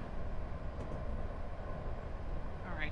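Metro-North P32 Genesis diesel-electric locomotive running in Train Simulator 2015, a steady low engine drone and rumble that holds loud and continuous throughout.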